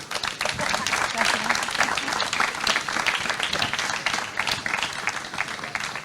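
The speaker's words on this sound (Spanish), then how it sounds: "a las que pido, por favor, un aplauso ya" Sustained applause from a sizable audience, steady and dense clapping filling the whole stretch at a loud, even level.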